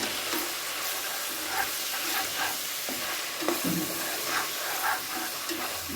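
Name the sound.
tomatoes frying with ginger and garlic in a pan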